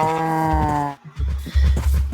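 A cow in Minecraft lets out a drawn-out, tonal moo, followed by a short pause and then low, bumpy thuds and shuffling close by.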